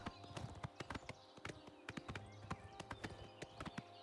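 Horse hooves clip-clopping in the video game The Elder Scrolls IV: Oblivion Remastered, a steady run of crisp hoofbeats at an even trotting rhythm, close and clear without talk.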